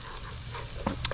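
Roughly chopped garlic fries in a hot pan for a pan roast, a steady close sizzle with a couple of quick stirring clicks near the end.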